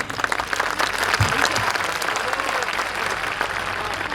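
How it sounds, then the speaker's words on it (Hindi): Loud, dense applause from a comedy show audience greeting a performer, continuous hand clapping filling the room for several seconds. "एक बार जोरदार तालियां हो जाए।"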